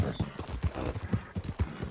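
Rhythmic hoofbeats of a horse galloping in Red Dead Redemption 2, steady thumps repeating several times a second, close and moderately loud, with faint background game sounds.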